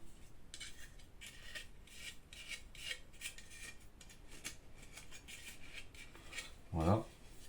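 Very fine sandpaper rubbing a plastic Tamiya Neo Fighter buggy model kit chassis part, a series of quick, faint rasping strokes in an irregular rhythm, close up, with a brief louder knock near the end.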